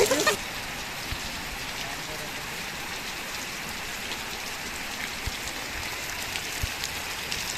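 Heavy evening rain falling outdoors, a steady soft wash of drops on surfaces that stays even and fairly faint, with an abrupt noise at the very start.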